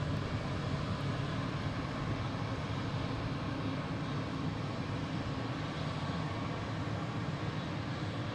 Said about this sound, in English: This is Delta heading to Rome, flight 112.